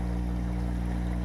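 A 12-inch aeration stone driven by its own dedicated compressor bubbles in a tilapia cage, giving a continuous, close, dense fizzing wash over a steady low mechanical hum.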